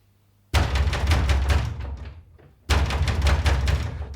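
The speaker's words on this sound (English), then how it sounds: "banging on the door." Heavy fists pound loudly on a wooden house door in rapid, ringing bursts, a first run of blows, a brief lull, then a second hammering volley, close and dramatic like a staged radio-play effect.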